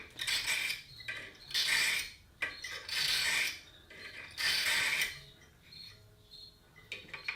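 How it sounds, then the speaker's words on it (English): A metal file is drawn back and forth over the sharpened edge of a handmade jaw harp, making rhythmic rasping strokes, about five evenly spaced passes, close and fairly quiet. "I'm gonna file up and down this. Just take that sharpened edge right off there."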